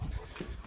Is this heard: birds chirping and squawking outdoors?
no